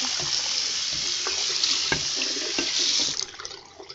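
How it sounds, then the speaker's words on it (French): Water runs steadily from a tap over an ant nest being rinsed clean, a continuous splashing rush that carries on throughout and eases off near the end. "on va faire donc un premier nettoyage à l'eau"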